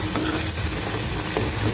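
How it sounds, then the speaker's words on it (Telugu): Chopped onions drop into hot oil in a pan and sizzle steadily and loudly, a dense close frying hiss with faint stirring scrapes throughout. "చూడండి, ఆనియన్స్ వేసేస్తాను."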